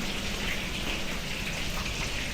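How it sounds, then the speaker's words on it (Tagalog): Steady rain falls outdoors on a cold day in New Zealand, a dense, even hiss of drops on surfaces that continues without a break, with no voices. "Saka umuulan sa labas."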